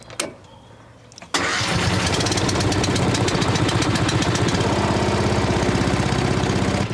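Porsche 917 race car engine cranking briefly with a sharp click, then catching into a loud, rapid, rough-pulsing idle that runs steadily to the end.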